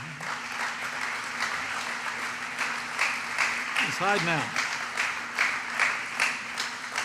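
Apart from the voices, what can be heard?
audience applause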